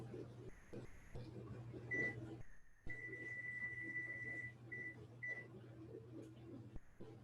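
A home oven's control panel beeps while it is set to preheat to 400, giving a few short tones and then a longer steady tone with brief breaks, over a constant low kitchen hum.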